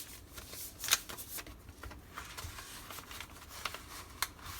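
A paper insert for a Chic Sparrow Lewis Bennet traveler's notebook is folded by hand, giving soft, close crinkles and rustles with a few sharper creases over a quiet background.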